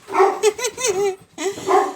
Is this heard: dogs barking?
yes